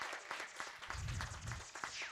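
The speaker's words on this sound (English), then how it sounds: "Let's hear a nice big clap for these guys." An audience claps and applauds steadily for a couple of seconds, a dense burst of hand claps close by.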